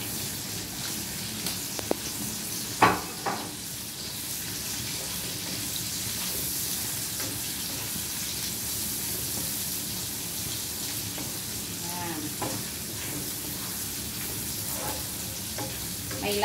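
Onions frying in hot oil in a pan for adobong sitaw: a steady, dense sizzle, close by, with a few soft stirring scrapes and no speech.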